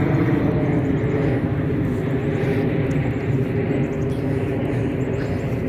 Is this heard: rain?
no